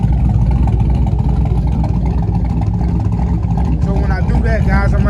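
A cammed 5.3 Chevy Tahoe V8 on 26-inch wheels idles loud and close, a steady, lumpy rumble that carries through the whole stretch with a voice talking over it.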